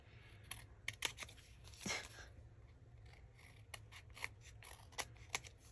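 Scissors snip through a card notebook cover, giving a series of quiet, sharp cutting clicks spaced irregularly in a hushed crafting setting.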